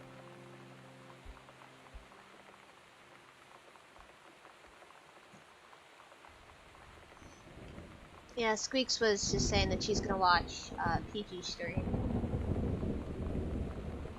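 A thunderstorm in the video game Gone Home brings soft rain patter with faint low thunder rumbles, and a person starts talking partway through over the continuing rain.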